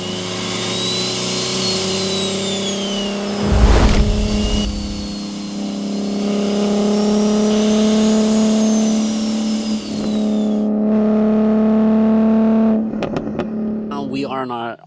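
A 950-wheel-horsepower single-turbo BMW G80 M3 engine runs on a dyno, a loud sustained mechanical drone that climbs and holds in pitch, with a brief burst partway through and a short break before it cuts off near the end.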